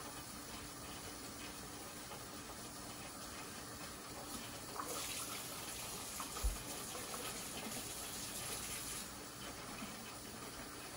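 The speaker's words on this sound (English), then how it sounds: "Hot water. Hot water out of the tap." Hot tap water pours steadily into canning jars, a soft continuous rushing hiss that stays fairly faint, with a brief clunk partway through and no talking.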